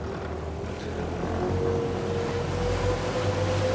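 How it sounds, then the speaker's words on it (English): Dominator Ilumen M35 mini superyacht with twin Volvo Penta D4 300-horsepower stern-drive engines accelerating, a loud steady engine drone rising in pitch over rushing water. "she's got a pair of Volvo Penta D4 300 horsepower engines, stern drives, and yeah, she gets going pretty quickly"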